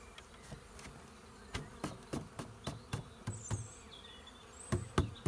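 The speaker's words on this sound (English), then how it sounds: "Huge amount of bees in the box there." Honey bees buzzing inside a swarm trap box, a steady close drone of many bees, punctuated by a series of sharp knocks as the box is handled.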